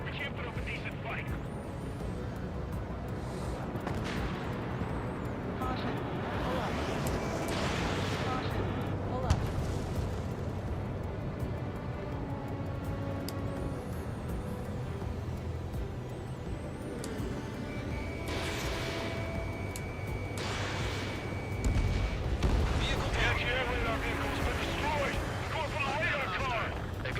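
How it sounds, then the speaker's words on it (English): Anti-aircraft gunfire and explosions in the Ace Combat 7: Skies Unknown video game, continuous rumbling bursts and booms with some louder blasts, under steady radio-style dialogue. "Anti-air guns aimed right at us."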